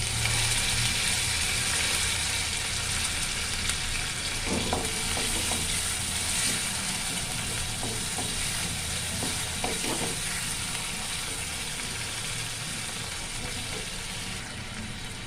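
Mixed vegetables with grated ginger sizzling and frying in a pan as they are stirred, a steady loud hiss with occasional scraping clatter of the spoon.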